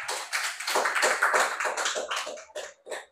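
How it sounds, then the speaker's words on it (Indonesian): Students in a classroom clap for a group, a burst of close, fast patterned claps that thins into a few scattered final claps, with no talking. "Oke, tepuk tangan untuk kelompok 4."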